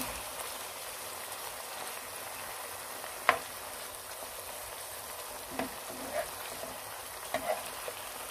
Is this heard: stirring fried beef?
yes